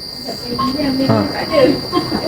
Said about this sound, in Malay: Korang dengar bunyi cengkerik